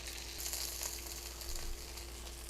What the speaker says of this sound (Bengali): মাছটাকে উল্টে পাল্টে আমি ভেজে নিয়েছি